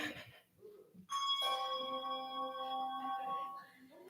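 A bronze handbell struck with a swing stroke during an ensemble concert, giving one clear bright ring that sustains and slowly decays after some quieter shuffling at the start.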